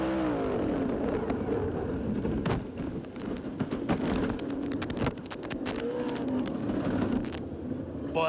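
A World of Outlaws sprint car at the Knoxville Nationals flips upside down, heard from onboard as a rough engine roar broken by sharp cracks and thumps of the tumbling car. The sound is loud and chaotic, with no talk over it.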